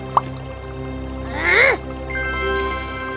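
A single loud, harsh squawk from a bird rises and falls briefly midway, preceded by a small click over a steady musical background.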